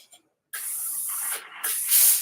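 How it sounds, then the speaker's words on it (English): A Laura Star steam iron vents steam in a few close, loud bursts of hiss, with a brief pause between them, the last burst the strongest. "So I'm going to clear out the steam"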